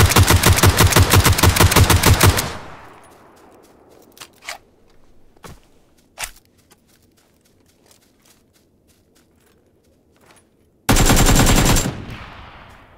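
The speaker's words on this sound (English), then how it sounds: "That's a good example of using the AK, starting off shooting at the body" AK rifle fire in PUBG on Xbox comes as two loud, rapid automatic bursts at the start and end, with scattered single cracks and light footsteps in the quieter stretch between.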